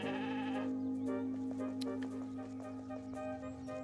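Sheep bleat in the shop-management video game Discounty, a wavering bleat up front followed by scattered clicks, all over a steady droning background tone.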